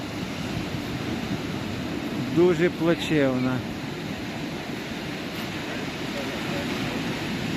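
Steady broadband roar of a stormy sea, waves and surf crashing continuously at a beach, with someone speaking briefly over the rushing noise.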